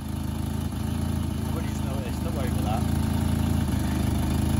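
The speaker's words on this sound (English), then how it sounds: "We'll pretend that the exhaust isn't blowing." A 1992 Citroen XM estate idles steadily close by with a blowing exhaust, giving a continuous low, pulsing drone that stays even throughout.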